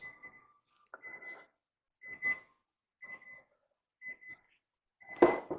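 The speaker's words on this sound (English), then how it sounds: "You can hear the oven going off." Kitchen oven timer sounding a series of short, evenly spaced electronic beeps about once a second, clear and alone in an otherwise quiet room, ending with a louder clattering thump.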